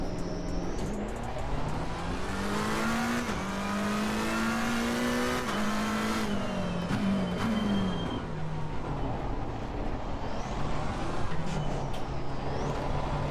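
A McLaren 720S Evo race car engine in a racing video game lapping the Spa circuit gives a continuous raspy roar, pitch climbing and dropping through gear changes. It stays loud and steady throughout, with no talk over it.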